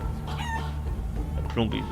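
A chicken clucks and squawks in Guacamelee 2, a few short bright calls in quick succession, loud and close over the game's background music, with some talk nearby.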